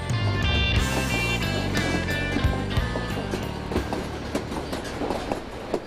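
White Pass train running along the Skagway River, a loud, steady rumble of rail cars with rhythmic clickety-clack from the wheels and occasional squeals, close and continuous, no voices.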